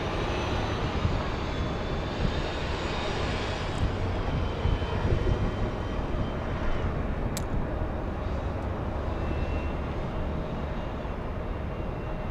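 A fixed-wing airliner's engines roar steadily at LAX airport in Los Angeles, a loud, continuous broadband rumble that holds throughout without voices.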